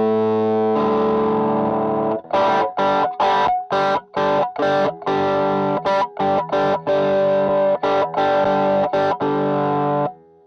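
An electric guitar through fuzz distortion plays loud, thick sustained chords, then chopped rhythmic stabs with sharp gaps between them, ringing out alone with no talking.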